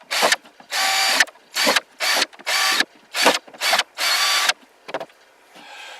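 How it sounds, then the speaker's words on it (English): A power drill bores holes around the edge of a plastic bucket, about ten bursts of whirring, each a second or less, separated by short pauses, close and loud. "I think I'm going to switch back to this drill bit and just make more holes"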